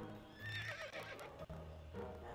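A horse neighs in the video game To The Moon, a loud whinny rising and falling across two seconds, with hoof clops heard under and after it.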